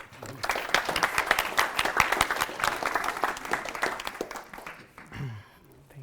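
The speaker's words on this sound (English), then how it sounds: "So please help me give a warm applause for Kfir." An audience at a technical talk welcomes the speaker with warm applause, a dense burst of many hands clapping for about five seconds before it fades into quieter murmurs.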